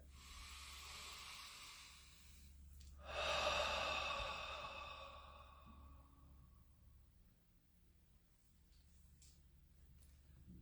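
A deep breath taken during a guided breathing exercise, a soft drawn-in inhale followed by a longer, louder exhale that fades slowly, close and alone with no talk.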